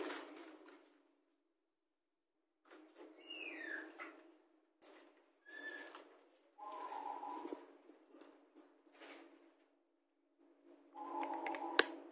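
A perkutut zebra dove of the tulak traju emas type, with golden or copper-toned plumage, gives short cooing phrases in several separate bursts with quiet gaps between them, fairly close and clear.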